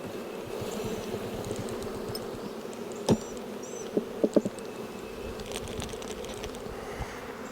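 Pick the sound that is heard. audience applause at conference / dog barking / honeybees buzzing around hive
honeybees buzzing around hive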